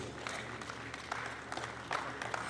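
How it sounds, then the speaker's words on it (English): An audience claps at the launch of the book Ile Ife Cradle of the World, a steady crackle of many hands that swells in short bursts over about two and a half seconds. "A round of applause for all of them, please."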